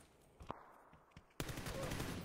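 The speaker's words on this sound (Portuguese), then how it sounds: "dei muito tiro nesse cara aí" Gunfire in a PC shooter game: a few sharp isolated shots, then a sudden dense burst of rapid continuous firing that fills the rest.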